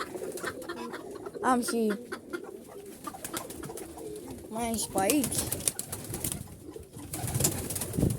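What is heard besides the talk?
pigeons cooing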